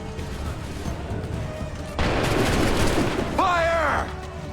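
Musket volley in Assassin's Creed III, a sudden loud broadband roar of massed gunfire holding for about two seconds, with a shouted voice breaking in near its end over a steady game ambience.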